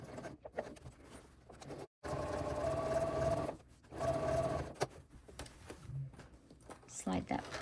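A sewing machine stitches a crossbody bag in two steady runs, each a few seconds long, with a short gap between them. Quiet handling sounds come before and after the stitching.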